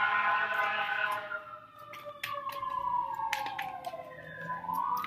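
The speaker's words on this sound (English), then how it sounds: "there's so many sirens right now." Emergency vehicle sirens pass along Hollywood Boulevard, wailing tones that sweep up and down and shift in pitch as they go by, fairly loud and mixed with city traffic, with no talking.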